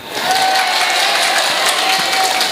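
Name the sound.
applause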